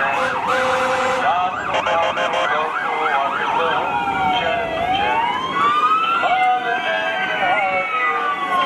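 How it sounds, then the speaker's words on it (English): Central Huron Ambulance siren at a Christmas parade, loud and close, switching from a rapid yelping warble to a slow wailing sweep that rises and falls for the whole stretch. "it looks like we got Central Huron Ambulance represented here"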